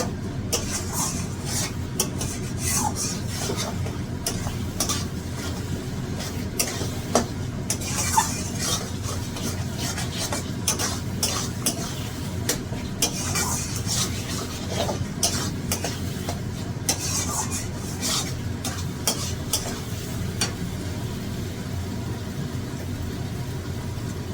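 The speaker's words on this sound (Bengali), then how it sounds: "এইবার সব মশলা একই সাথে কষিয়ে নিতে হবে।" Spices stir-fried together in a pan for a fish dish, giving a continuous low sizzle with frequent scraping and light clinks of a spatula against the pan, steady and close throughout with no talking.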